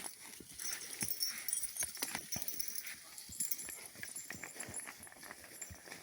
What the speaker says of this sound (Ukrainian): складиста така кобила. Хороша, адекватна, спокійна.